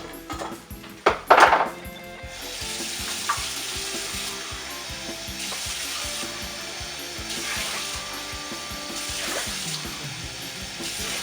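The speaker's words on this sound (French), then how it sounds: "Maintenant je vais ajouter mon eau." Water poured into spiced rice in a hot pot, starting with loud clattering of a pot and utensil, then a steady gurgling pour and bubbling sizzle that continues at moderate level with brief surges.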